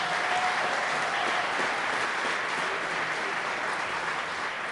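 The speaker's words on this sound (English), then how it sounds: "If we could give them all a big round of applause" Audience applause at a chamber of commerce awards presentation held in a barn venue, a dense, steady wash of clapping from a large crowd lasting throughout at even loudness.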